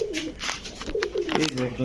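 Racing pigeons coo close by in a short, soft burst of throaty warbling, with a person's voice mixed in.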